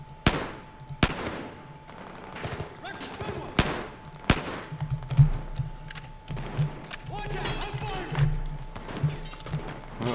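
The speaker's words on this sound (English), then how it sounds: "he's really shooting a lot of fire down towards us" Battlefield 4 gunfire: sharp shots crack out at irregular intervals over a steady background hum, some loud and close, others softer, with speech heard along with the shooting.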